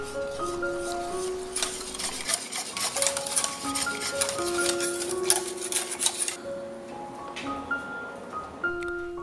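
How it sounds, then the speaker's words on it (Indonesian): Spoon stirring a dry mix of cornstarch and wheat flour in a bowl for an unbaked Manado klappertaart, a steady run of soft scraping and rubbing close up, with faint clinks beneath a light background tone. "Tambahkan 50 gram tepung terigu, aduk sampai semua tercampur rata."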